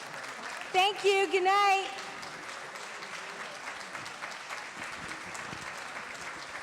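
A comedy club audience gives a comedian sustained applause, broad crowd clapping that keeps going at a moderate level, while a performer briefly speaks over its start.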